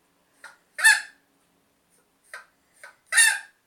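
A hen crowing like a rooster: two short bursts then a long strained crow, repeated twice over a few seconds, close and clear with no one talking.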